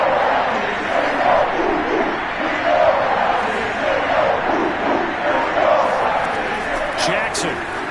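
A dense roaring stadium crowd at a Cleveland football game in Madden, a constant loud wash of voices with a commentator talking over it throughout.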